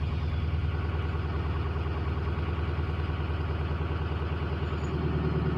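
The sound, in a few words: car engine running during diagnostics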